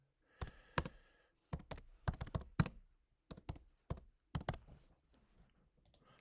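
Credit card details for an online CSCS card application are typed on a computer keyboard: crisp, close key clicks in short bursts separated by pauses, quiet and alone.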